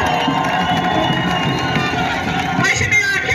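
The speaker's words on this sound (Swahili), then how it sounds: "Piga makofi mengi kwa Mheshimiwa rais wetu." A large crowd at a public reception for the Uhuru Torch race in Peramiho cheers and claps loudly and continuously, with shouts rising near the end under the general roar.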